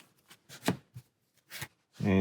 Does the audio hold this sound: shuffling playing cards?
yes